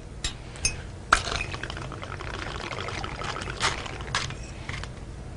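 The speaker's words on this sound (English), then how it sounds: "Now vodka, you want to pour a full shot on this one" Vodka is poured into a cocktail shaker already holding ice, a soft steady pour broken by several bright clinks and knocks of ice against the container, fairly quiet and close.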